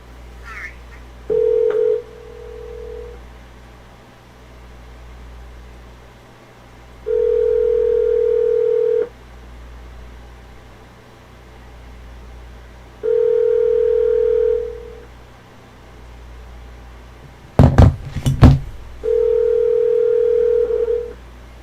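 A voice assistant placing a phone call produces a repeating ringback tone in long, evenly spaced pulses, with a brief burst of clatter near the end and low hum underneath.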